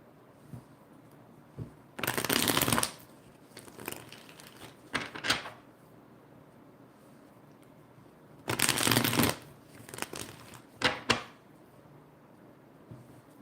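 Bursts of tarot cards being shuffled, close and crisp, in several separate riffles with quiet pauses between them.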